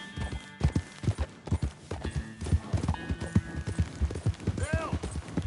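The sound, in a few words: horse riding in video game Red Dead Redemption II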